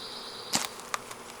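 Honeybees hum on a hive frame up close, a steady buzzing drone broken by a few sharp brief clicks and knocks.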